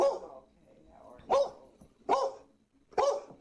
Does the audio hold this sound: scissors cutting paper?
no